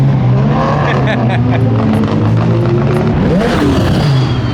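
Twin-turbo Lamborghini Huracán STO supercar engine revving loudly up close, a continuous roaring drone that climbs in pitch toward the end, with people talking over it.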